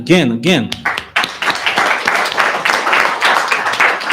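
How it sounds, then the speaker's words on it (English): Audience clapping at a startup pitch night, beginning with a few voiced shouts and then swelling into dense, continuous applause from a room of people. "Go ahead, applause again"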